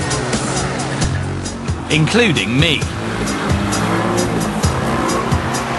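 Competition cars doing tight donuts together in a confined space for a world record attempt, engines droning and tires squealing in wavering bursts, with a voice talking over the din.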